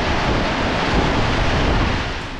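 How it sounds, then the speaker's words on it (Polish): Strong wind and heavy rain lash down during a tropical storm in Cambodia, a dense, steady roar of gusting air and downpour that stays loud throughout and eases slightly at the end, with no talking. "to jest tak mocny wiatr, tak mocno pada"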